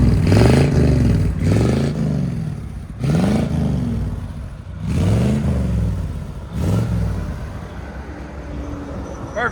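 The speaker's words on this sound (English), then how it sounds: "we'll do a rev out here" A 1962 Buick LeSabre with a 401 V8 and glass pack mufflers revs outdoors in four or five repeated throttle blips, its deep burbling exhaust rising and falling loudly and close by.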